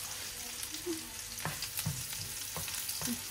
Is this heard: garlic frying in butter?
yes